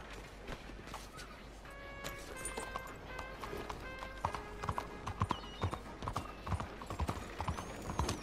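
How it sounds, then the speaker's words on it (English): Rhythmic clip-clop of horse hooves galloping at a steady pace in Red Dead Redemption 2, with jingling tack and faint mechanical clicks in the background. "There's my horse."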